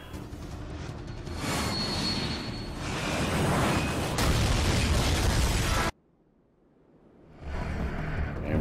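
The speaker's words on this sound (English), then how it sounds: "That's a plane." A plane roaring past in the video game Dead Rising 3, a loud, sustained engine rush mixed with bursts and crashes that cuts off sharply, then returns after a brief near-silent gap; no talk.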